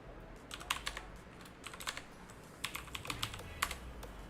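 Quick, light keystrokes on a computer keyboard tap out a short command in uneven clusters, close and quiet with nothing else audible.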